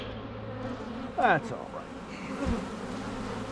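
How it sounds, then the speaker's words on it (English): Honey bees buzz around an opened hive during a honey harvest, a steady close hum with a louder pass near one insect, while a voice speaks a brief word. "There's a lot of bees in a single deep."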